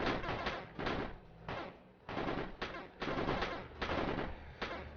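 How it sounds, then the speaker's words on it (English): SMG burst fire in the video game Hero Survival on PS5: repeated short bursts of rapid gunshots in an even rhythm, about eight bursts separated by brief gaps, loud and close with no talking. "Oh, it's burst fire."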